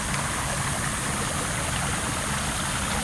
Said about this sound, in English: Love the sound of the fountain.